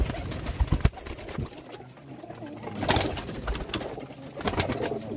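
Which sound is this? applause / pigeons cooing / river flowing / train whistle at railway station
pigeons cooing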